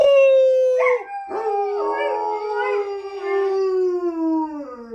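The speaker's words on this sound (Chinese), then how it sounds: "我们一起学狗叫，" A long, clear dog howl rises and wavers for several seconds, loud and close, with a couple of short breaks near the start and no talking over it.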